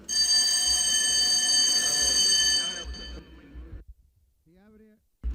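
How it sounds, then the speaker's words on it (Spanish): An electric parliamentary voting bell rings loud and continuous in a legislative chamber for nearly three seconds, then cuts off into near silence with a brief faint tone afterward. "solicito votar después de que suene el timbre"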